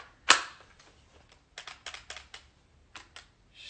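A BB gun fires one sharp, loud crack near the start, followed by softer clicking and rattling handling noises in short bursts.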